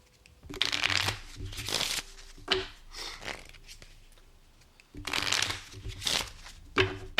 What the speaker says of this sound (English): So I'm going to shuffle. We are going to deal cards.